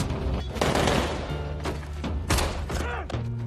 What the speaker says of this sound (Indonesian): terjadilah baku tembak yang epik antara Brad dan Yones dengan seluruh anak buah Ja'far